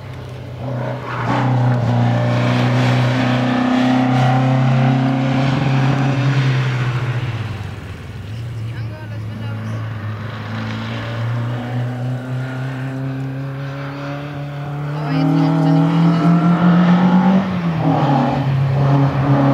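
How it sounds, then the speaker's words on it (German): A slalom race car at a 2013 event in Ahlhorn passes by accelerating, its engine note rising and falling through gear changes over about twenty seconds, loud and fairly close. "Jens fährt eigentlich ganz sicher."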